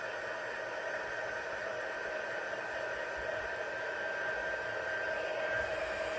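A handheld heat tool on its second setting blows steadily across a stamped card, a continuous whooshing hum with a faint whine, alone and unchanging throughout.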